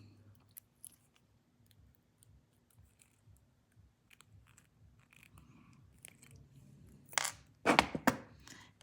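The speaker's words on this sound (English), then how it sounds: "I'm just going to go ahead and cut off the bail that's on there" Cutters snipping the bail off a metal cross pendant: a quiet, fidgety lead-in of light handling noise, then two sharp, close crunching snips near the end.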